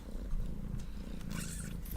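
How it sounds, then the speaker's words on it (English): A cat purrs in a low, rumbling drone close to the listener, steady throughout with a bit of light rustling. "Kitty meow for the day."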